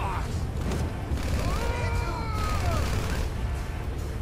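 Gunfire in the video game GTA 5, a dense sustained fusillade of shots rolling continuously through the clip with a voice talking over it.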